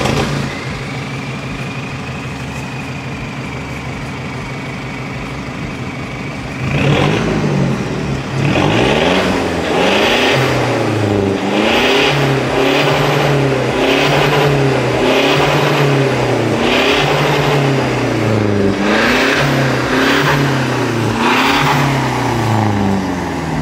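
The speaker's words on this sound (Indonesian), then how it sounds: "Gue akan starter buat kalian." A modified Toyota Hiace van engine starts up after a low idle-like hum, then revs hard in repeated loud bursts that rise and fall in a steady rhythm, close to the listener with no talking.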